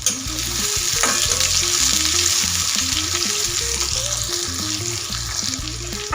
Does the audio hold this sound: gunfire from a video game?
no